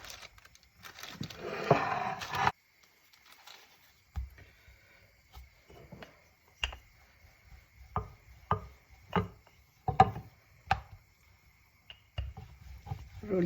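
A rolling pin works suji puri dough on a board, starting with a rough rubbing rumble and then giving a series of separate soft wooden knocks and rolls at an uneven pace, close and fairly quiet.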